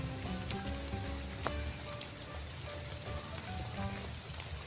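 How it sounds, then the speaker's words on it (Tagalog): Heavy rain pours down steadily, a dense hiss of drops hitting surfaces nearby, continuous and fairly loud with no voices. "medyo lumalakas talaga yung ulan dito"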